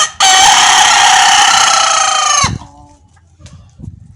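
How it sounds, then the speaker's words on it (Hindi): A chicken in a home vegetable garden lets out one long, loud, close crow lasting about two seconds, followed by quieter scattered sounds from the birds. "साथ साथ मुर्गियां भी खा रही है माशाल्लाह।"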